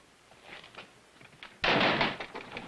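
A door swinging open in an old western drama, a quiet creak and small taps followed by a sudden louder burst of movement and scuffing as it opens.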